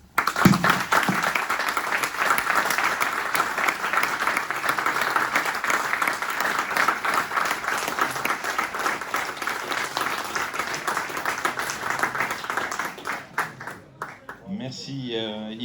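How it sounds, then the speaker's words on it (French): At a corporate certificate ceremony, an audience gives Sophie Group's staff a long, even round of applause lasting about thirteen seconds, then it thins out as a voice begins speaking. "Ceux qui veulent, faut applaudir"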